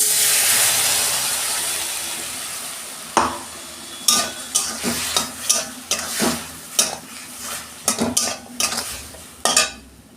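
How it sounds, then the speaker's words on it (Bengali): Drumstick stems frying in oil with spice paste in a pan, a steady close sizzle broken by repeated scraping and stirring knocks of a utensil against the metal. "ডাঁটাগুলো একটু তেল দিয়ে ভেজে নিলাম"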